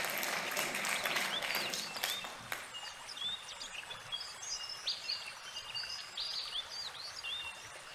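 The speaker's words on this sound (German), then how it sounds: "Applaus." Applause in the video game The Night of the Rabbit, a burst of clapping that fades after a few seconds into soft chirping birdsong.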